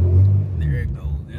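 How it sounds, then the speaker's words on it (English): A 2011 Jeep Wrangler in four-wheel drive on a rough creek trail in Arizona gives a low, close engine rumble that builds briefly, heard under someone talking. "Now we're in four-wheel drive and it's gonna kick."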